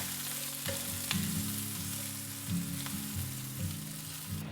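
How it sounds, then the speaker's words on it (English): Onions, garlic and ginger sauté in chili oil for a plant-based dish, a constant close sizzle with occasional sharp spatula clicks, set beneath soft background music. "Onions, garlic, and ginger. Saute for 2 to 3 minutes."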